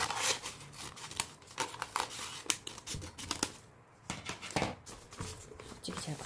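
Scissors snip through kraft paper during gift wrapping: a close, quiet series of irregular crisp cuts and paper crinkles.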